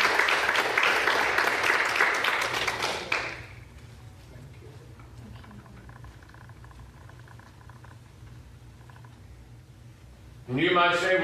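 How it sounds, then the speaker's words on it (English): Church congregation clapping in praise during a Wednesday evening service, a loud wash of hands for about three seconds that fades into quiet room tone before a preacher's voice returns. "Give the Lord a hand clap of praise"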